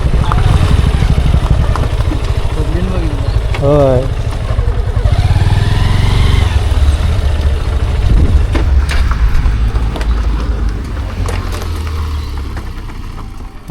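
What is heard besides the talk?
many motorbikes passing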